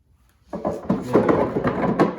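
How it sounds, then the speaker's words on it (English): Wooden drawer on a Roubo workbench sliding along paste-waxed runners, a smooth, close rubbing glide of about one and a half seconds with no talking. "That's what paste wax will do for you for sliding drawers."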